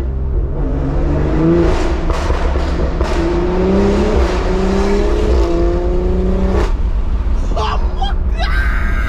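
A BMW M340i exhaust roars loudly as the car drives under a bridge, revs climbing in repeated pulls with a close, echoing growl, while voices shout and talk over it.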